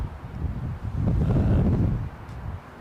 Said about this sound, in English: I think we're gusting up to about 40 mile an hour.